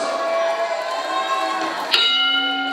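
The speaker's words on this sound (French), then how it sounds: "la cloche est sonnée" At a catch wrestling strap match, a bell rings to open the bout, a single bright clang that hangs and rings out over steady arena noise.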